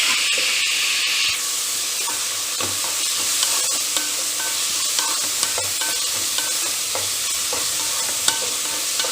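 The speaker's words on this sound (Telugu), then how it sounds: "సో ఆనియన్ బ్రౌన్ కలర్లోకి వచ్చేసే వరకు దీన్ని అయితే ఫ్రై చేసుకోవాలి." Onions and green chillies fry in hot oil in a pan, a loud, steady sizzle and hiss close up, with occasional spatula scrapes and stirring clicks throughout.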